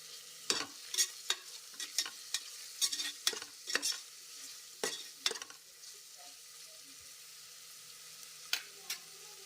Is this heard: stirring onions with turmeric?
yes